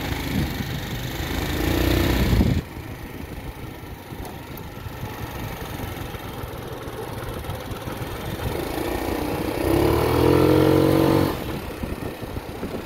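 A 1985 Yamaha Riva 125cc scooter accelerates on a test ride, its engine rising in loud revving bursts, then dropping back to a quieter hum under wind noise before revving up again.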